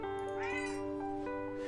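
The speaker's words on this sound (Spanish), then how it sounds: "Parece que es un gato callejero y no tiene dueño" Fofiño, a stray cat in the video game A Building Full of Cats, gives a short, clear meow over a steady tonal music bed, brief and close with no talk.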